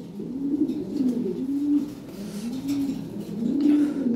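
Lahori pigeons cooing at a pigeon market, a continuous low rolling coo in repeating swells, fairly close and steady, with faint market background and no talk.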